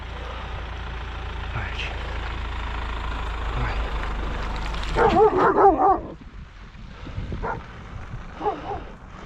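On a snowy night road, a vehicle rumbles past, then a dog gives a brief burst of yips and barks, followed by quieter sounds and faint whimpers.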